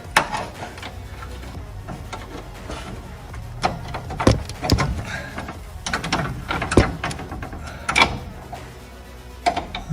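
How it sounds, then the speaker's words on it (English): Metal clicks and ratcheting taps as a clip is worked off the brake rod of a John Deere D105 hydrostatic riding mower during service, irregular close knocks and scrapes spread across the stretch with a faint voice now and then. "Now for this brake rod right here. Let's remove this clip here."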